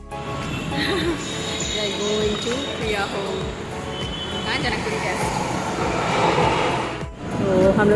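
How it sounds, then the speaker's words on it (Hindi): A metro train at Janakpuri metro station in Delhi rumbles steadily amid busy platform noise, with people talking nearby throughout. "तो अब हम लोग पहुँच गए हैं जनकपुरी मेट्रो स्टेशन जहाँ से प्रिया के घर के लिए मेट्रो मिलती है।"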